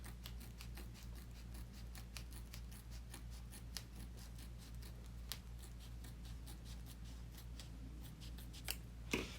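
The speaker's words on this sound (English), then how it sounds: "Now I am going to trim my top right here so it can do the satin" Scissors trim the vinyl and fabric top of an in-the-hoop koala purse, a quiet, rapid run of small crisp snips continuing without pause, a couple of slightly louder cuts near the end.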